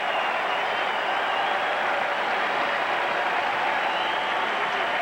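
A baseball crowd at an Angels vs Twins game in 1990 keeps up a steady, broad roar of cheering and applause throughout, loud and continuous without any pauses or individual voices standing out.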